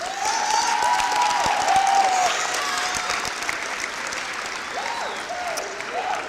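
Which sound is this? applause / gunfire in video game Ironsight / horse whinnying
applause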